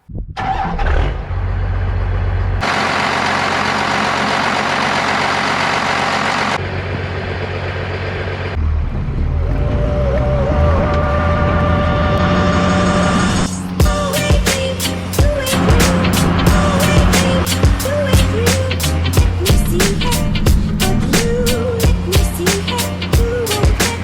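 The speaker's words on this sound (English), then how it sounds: "Let's get this motor cranked up and see what she sounds like." A 1991 Dodge W350 first-gen 4x4 pickup with a Cummins 5.9 diesel is cranked, then settles into a loud, steady, rattly idle close by, with a rising whine and rapid clatter carrying on to the end.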